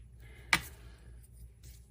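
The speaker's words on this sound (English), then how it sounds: "we're going to go ahead and stamp kindly delivered to on the front of the" A rubber stamp pressed once onto the front of a handmade-card envelope, one sharp soft thud, close and fairly quiet, alone.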